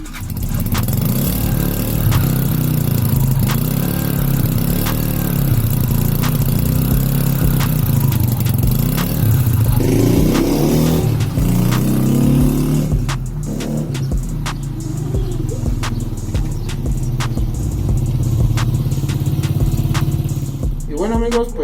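Italika FT 125 motorcycle engine starting and idling after a tune-up service, a steady close mid-pitched engine drone throughout with sharp clicks and a brief change in tone partway through.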